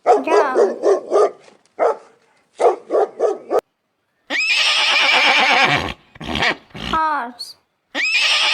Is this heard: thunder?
no